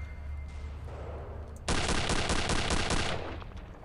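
Rifle gunfire rings out in the PC shooter game Return to Castle Wolfenstein, with a quieter burst of shots followed by a loud, sustained volley of rapid shots that stops abruptly, leaving faint background noise and no speech.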